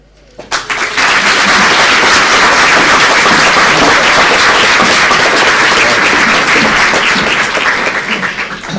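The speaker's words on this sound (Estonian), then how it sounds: "Ja ärge laske aplausile vaibuda" An audience at a graduation ceremony for Tartu Health Care College breaks into loud, sustained applause, dense clapping that begins abruptly and holds steady close to the mic.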